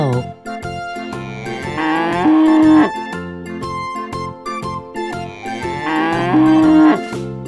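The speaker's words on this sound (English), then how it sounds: "Cow." A cow in a children's animal-sounds animation moos twice, each long low call rising then held, playing over cheerful background music without talking.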